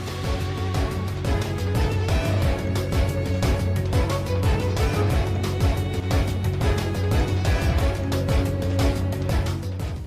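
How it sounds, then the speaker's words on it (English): Zinnia's battle theme from the Pokémon Omega Ruby and Alpha Sapphire video game, a loud, driving minor-key track with rapid percussive hits and thick sustained harmony that plays continuously with no voices. "Let's take a look at another theme from Omega Ruby Alpha Sapphire, Zinnia's theme."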